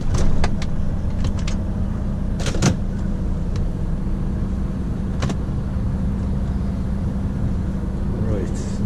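A Volvo FM 460 truck pulling a trailer drones at a low, steady engine hum from inside the cab, with occasional clicks and rattles over it.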